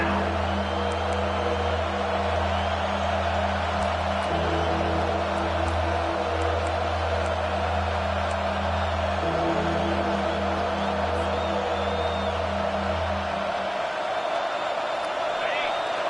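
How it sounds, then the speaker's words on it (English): A dense, steady crowd roar fills a Gators football stadium, loud and continuous with low sustained drones underneath, easing off near the end. "The roar of the crowd trying to fuel this defense to keep them pinned in their own end"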